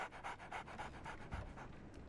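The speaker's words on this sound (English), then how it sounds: "So, Barnes has a dog now." A dog pants in rapid, steady rhythmic breaths, close and fairly quiet, inside the detective game Sherlock Holmes: The Awakened.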